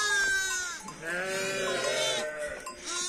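Sheep and newborn lambs bleat repeatedly on a farm, several overlapping wavering cries close by, high lamb calls mixing with deeper ewe voices throughout.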